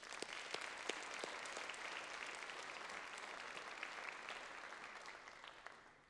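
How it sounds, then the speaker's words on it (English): An audience at a high school senior awards ceremony gives a sustained round of applause, with dense, even clapping and a few sharper individual claps standing out, heard from a moderate distance with no talking. "So one last applause for you all."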